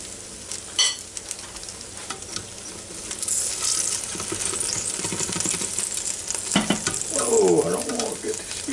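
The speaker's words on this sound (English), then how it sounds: "You hear that sizzling down in there?" Frozen chicken thighs sizzle and crackle steadily up close in an Instant Pot air fryer, with clinking and scraping of utensils and a short voice toward the end.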